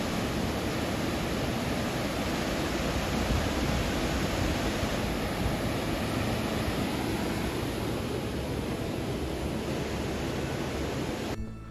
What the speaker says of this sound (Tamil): அந்த ஃபால்ஸோட சவுண்டு இங்கே கேட்டுகிட்டே இருக்குங்க உங்களுக்கு